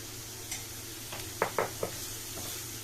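Crushed garlic frying in a pan for an egg masala Maggie gives a low, steady sizzle, with a few sharp clicks of a utensil scraping the pan.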